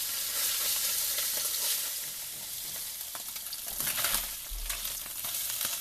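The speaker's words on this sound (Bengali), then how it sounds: "মাছগুলো ভাজা হয়ে গেছে সুন্দর।" Bacha fish fry in hot oil in a pan, a continuous bright sizzle close by with small crackles and a brief stir or scrape partway through, no voices.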